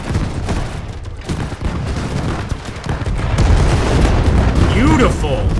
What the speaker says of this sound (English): Call in our artillery on the enemy here.